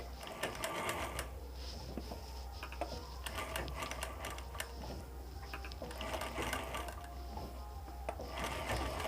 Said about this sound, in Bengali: ছেঁড়া অংশের চারিদিকটা মেশিনটিকে ঘুরিয়ে ঘুরিয়ে আস্তে আস্তে সেলাই করে নিতে হবে